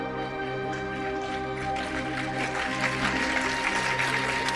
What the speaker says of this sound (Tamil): மனசாட்சியுடையவர்கள் கைத்தட்டுகிறீர்கள்